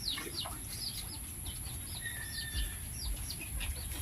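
Free-roaming chickens cluck and chirp nearby in a pig pen in short, scattered calls over a low background rumble, with no talking.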